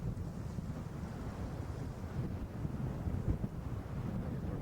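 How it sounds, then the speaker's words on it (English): Continuous wind gusts rumble across the microphone in Nova Scotia, a low blustery roar that swells and dips irregularly throughout. "Wind's kicking up nicely."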